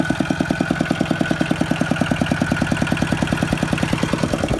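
A tractor being driven up onto a trailer chugs close by with a loud, steady, rhythmic low engine beat, about ten pulses a second, alone without talk.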